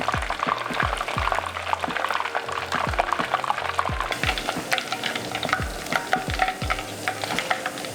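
Chunks of pork for sweet and sour pork frying in hot oil, a steady close sizzle and bubbling with repeated stirring knocks and scrapes throughout.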